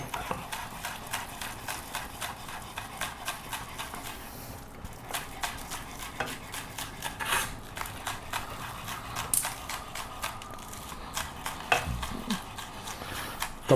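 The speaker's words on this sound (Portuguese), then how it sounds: "Cebolinha verde, eu vou cortar em 3 pedacinhos aqui, mais ou menos iguais" Knife chopping green onions on a cutting board, a quick run of close, sharp taps repeating steadily across the whole stretch, with a little talk in the background.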